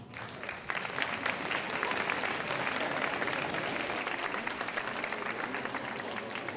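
Sustained applause from an audience at a fashion show in Étampes, steady clapping after a brief quieter start, filling the room with a dense, even patter.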